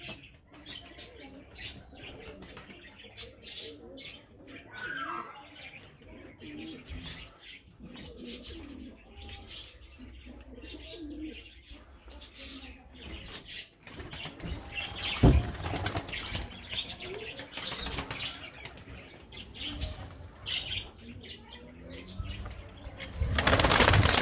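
White pigeons kept in a loft, with soft cooing and repeated bursts of wing flapping close by, plus occasional chirps; the flutter grows louder toward the end.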